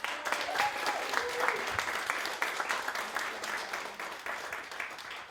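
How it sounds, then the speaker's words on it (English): A workshop audience at a college tour event in Los Angeles breaks into applause, a full wash of clapping that starts strong and gradually thins and fades toward the end. "So please give her a round of applause."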